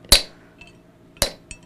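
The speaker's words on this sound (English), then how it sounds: "I started by hammering a point on the end of the bar, and now I'm making a taper the length that I want the nail to be" A blacksmith hammers a taper onto the end of an iron nail bar: two loud, ringing metal strikes about a second apart, each followed by a lighter tap.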